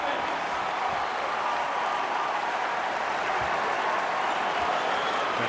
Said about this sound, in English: And the crowd in Rupp is going nuts.